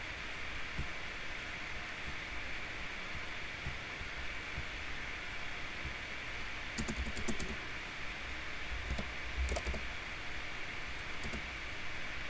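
A computer keyboard is typed on in short, sparse clusters of keystrokes, faint against a steady background hum and hiss.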